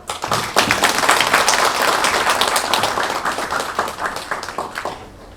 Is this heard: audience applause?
yes